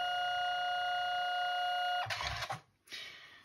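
A Canon Selphy photo printer starts up with a faint, steady electronic whine. A short burst of mechanical whirring and soft clunks follows as its mechanism engages, then stops.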